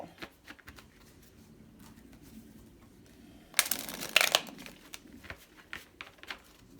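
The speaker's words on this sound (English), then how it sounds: "One more shuffle." Tarot cards being shuffled by hand, a few soft papery flicks followed by one brief, louder riffle burst in the middle, then quieter handling, close and with no talking.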